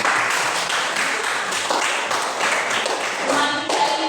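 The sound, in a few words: audience applause for two presenters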